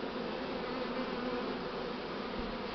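A swarm of Buckfast bees buzzes around a hive as young queens enter, making a dense, steady, close hum that stays at an even loudness throughout.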